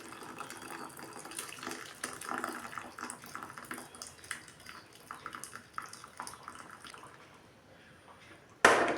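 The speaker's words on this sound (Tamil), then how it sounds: "அதனால் கொஞ்சம் தண்ணி இருத்துக்கலாம்." Water is poured into cooked dal for an Andhra-style tomato dal, a steady splashing trickle running for several seconds before a sharp clatter at the end.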